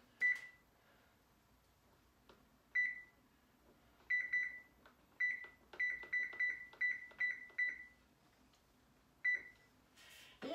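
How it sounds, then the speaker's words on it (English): An oven timer being set for yeast rolls gives a series of short, sharp electronic beeps, single presses and quick runs of several, clear and close in a quiet kitchen. "I'm going to go ahead and set the timer for 20 minutes."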